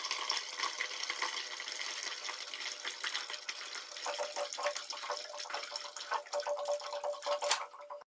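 Water running from a reverse osmosis faucet into a 1 liter container, a steady hiss of flow with a rising tone as the vessel fills, close and moderately loud with no voices.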